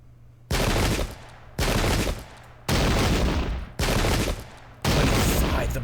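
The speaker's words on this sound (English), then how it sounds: "Wayne's division getting some nice shots." Five loud musket volleys crack out one after another at roughly one-second intervals in a Battle of Brandywine strategy game, each a broad crashing burst that rolls off briefly before the next.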